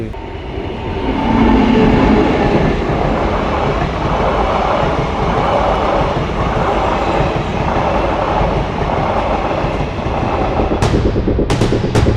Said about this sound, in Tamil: இப்போ ட்ரெயின் வரப்போது ட்ரெயின் உங்களுக்கு காட்டுறோம்